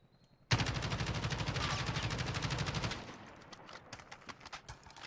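A Kilo assault rifle in Call of Duty Warzone fires one sustained full-auto burst of rapid, evenly spaced shots for roughly two and a half seconds, then stops abruptly, leaving faint shuffling and a few light clicks.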